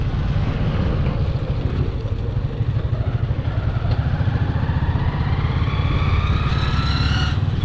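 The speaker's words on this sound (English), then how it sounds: "Life on motorbike." Motorbike ride through Kenya, East Africa: a steady, loud engine drone with heavy wind buffeting runs throughout, and a rising whine builds toward the end.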